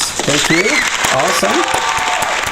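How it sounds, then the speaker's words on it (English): Round of applause for a debate participant in an online English-lesson debate on climate change, a broadband wash of clapping throughout under a voice giving thanks. "Let's give him a round of applause."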